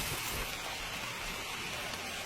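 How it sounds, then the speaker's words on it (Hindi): Steady rain falling in the Amazon jungle, a dense, even hiss of drops on foliage that carries unbroken from start to finish at moderate level. "जब बादल अब और नहीं झेल सकते तो आसमानी नदी बारिश में तब्दील हो जाती है।"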